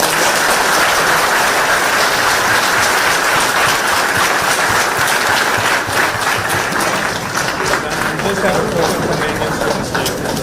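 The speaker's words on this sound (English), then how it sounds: "can we give him a round of applause?" University campus audience in Texas applauding after a talk by Rahul Gandhi, a dense, steady roar of many hands clapping that fills the room loudly throughout.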